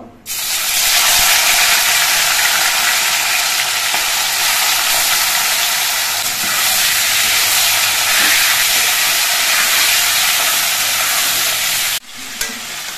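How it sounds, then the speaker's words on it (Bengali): Salted chicken pieces fry in hot mustard oil in a wok, giving a loud, steady, close sizzle that holds for about twelve seconds before dropping off abruptly near the end, with no talking. "এবার আমি যে চিকেনগুলো নুন মাখিয়ে রেখেছিলাম সেই চিকেনগুলো আমি কয়েক পিস করে একসঙ্গে দিয়ে ভেজে নেব।"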